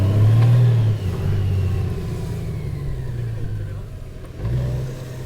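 A Honda Gold Wing Bagger 50th Anniversary Edition motorcycle engine hums steadily, then revs up with a short rising surge near the end as the shift paddles are used, close and loud, with a little talk in between.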